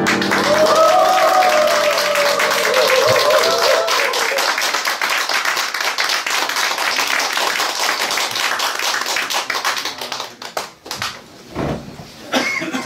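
An audience claps at a riverside cafe concert of Latin songs, the applause rising as the music ends and continuing dense and lively before tapering off near the end.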